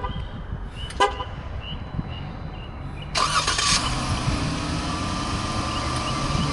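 A Jeep Grand Cherokee started by push button: a short click, a brief chirp, then the engine cranks and catches with a loud burst that settles into a steady, close idle.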